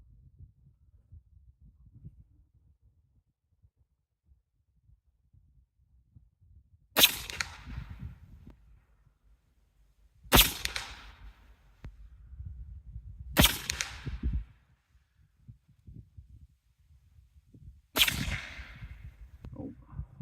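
Four sharp, loud reports from a Western Rattler .357 revolver firing hollow points during an accuracy test, spaced several seconds apart, each with a short ringing decay in an otherwise quiet outdoor setting.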